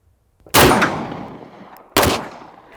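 Two sharp pistol gunshots at a shooting range, the second about a second and a half after the first, each loud and close with a ringing decay.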